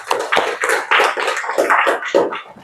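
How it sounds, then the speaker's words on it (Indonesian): A class of children clap their hands in a burst of quick, uneven claps lasting a couple of seconds, close and fairly loud with no talking. "Oke, tepuk tangan."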